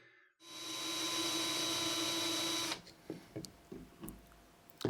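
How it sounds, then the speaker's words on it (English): A power drill bores a preliminary hole into a hollow prop skull for a craft project. It gives a steady, fairly loud whirring hum for about two seconds, then stops, leaving light handling knocks and taps. "So this is like a preliminary hole that I'm drilling."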